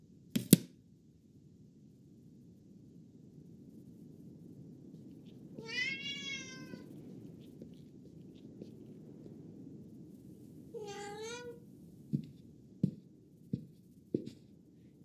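A cat meows twice, two clear drawn-out cries separated by a few seconds, over a low steady background hum with a sharp tap at the start and a few soft knocks near the end; no one speaks.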